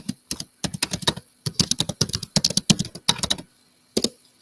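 Rapid clicking of fingers typing on a computer keyboard, bursts of keystrokes with short pauses, close and clear, no talk over it.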